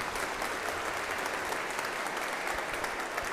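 Audience applause greets a host arriving on stage at a cybersecurity conference, a steady, dense clapping from a large crowd that holds evenly throughout.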